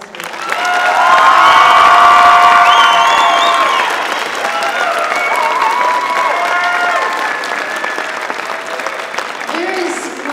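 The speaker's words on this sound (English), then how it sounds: "Give them a round of applause for that." A school concert audience bursts into loud applause mixed with cheering and shouted whoops, swelling quickly and then settling into steady clapping that carries on through the whole stretch.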